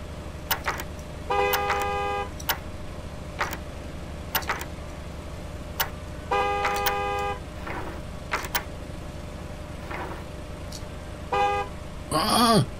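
Several short car horn toots and longer honks repeat across the forecourt of a video game gas station, loud and close over a steady low hum, with a rising mechanical sweep at the end.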